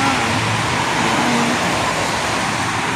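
Steady roadside traffic as vehicles pass on a street in front of a building, a continuous broadband roar of cars and heavier motor vehicles with no distinct pauses, close and fairly loud throughout.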